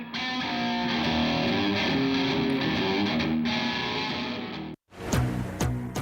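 Electric guitar played through an amplifier with spring reverb, a sustained distorted chord ringing loudly for several seconds, then a brief cut to silence followed by a few sharp picked notes.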